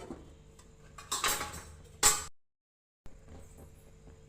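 A metal lid clatters onto a kadai pan of cooking chicken, giving a couple of bright clanks before a brief dropout, with quiet kitchen background on either side.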